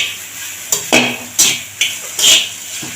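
A spoon scrapes and stirs dry chilli chicken in a frying pan with pepper powder, Kashmiri chilli powder and sugar, making five or six distinct scraping strokes over a low, steady sizzle.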